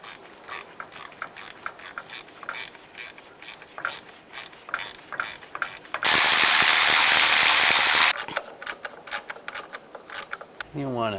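A ratchet wrench clicks steadily as it tightens engine mount bolts on a 2010-2017 Chevrolet Equinox, a dense run of rapid pawl clicks, close and fairly loud, with a brief louder mechanical burst partway through.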